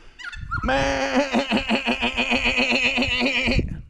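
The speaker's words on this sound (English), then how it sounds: "Hear the goats?" A long, wavering goat bleat with a rapid stuttering tremble lasts about three seconds, fairly close and loud, with no talking.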